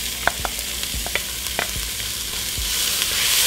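Onions and cubed tomatoes sauté in a pan for a red lentil soup, a steady close sizzle with a few sharp clicks of a utensil against the pan.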